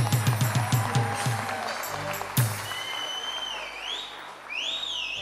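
Applause for a music band at a community stage event, brief bursts of clapping at the start, then a hall with faint whistles and background crowd murmur.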